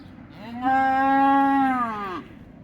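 A single cow on a farm gives a long, loud, steady moo of about one and a half seconds, near and clear, over quiet background.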